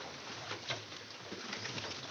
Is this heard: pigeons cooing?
yes